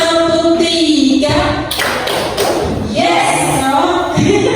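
Three rhythmic hand claps in a group clapping routine, the claps loud and close, with talk and voices around them.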